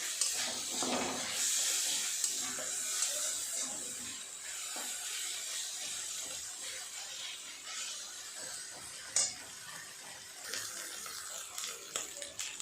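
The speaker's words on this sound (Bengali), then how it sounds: "পেঁয়াজ আদা রসুনটা ভাজা ভাজা হয়ে গেছে" Onion, ginger and garlic frying in a pan, a soft continuous sizzle with occasional scraping and stirring clicks, fairly quiet.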